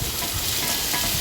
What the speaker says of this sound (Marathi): जिरं आणि बारीक चिरलेला कांदा चांगला भाजून घ्यायचा आहे तेलामध्ये